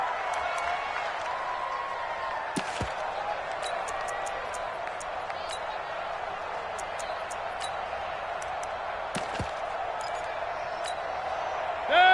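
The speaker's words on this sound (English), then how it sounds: "the crowd getting into it as we come up on a big 3rd down" A stadium crowd in a football video game on PS4 roars steadily ahead of a big third down, a constant wash of cheering with scattered sharp clicks and a brief swell at the very end.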